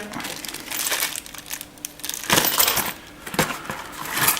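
Plastic bag of screws and a small tube of thermal paste from an NZXT Havik 140 CPU cooler box being handled, giving close, irregular crinkling and rustling bursts with small rattles, alone without talk.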